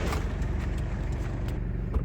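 1993 Toyota Hiace high-roof long-wheelbase 4WD diesel camper van with a five-speed manual, its engine rumbling at a steady idle close by, a low constant drone with light mechanical clatter, no voices.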